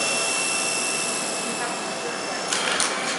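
An indoor remote-controlled helicopter flies close by, giving off a steady, loud, high-pitched whirring whine with a constant motor tone throughout.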